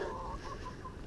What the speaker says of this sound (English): You can hear the turkeys in the background.